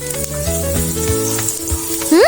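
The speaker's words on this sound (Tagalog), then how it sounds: "Sunod naman na ilagay natin ang ating sibuyas." Chopped onion and garlic sautéing in a hot pan, a steady close sizzle and crackle of frying with some stirring scrapes, loud and continuous, no talking over it.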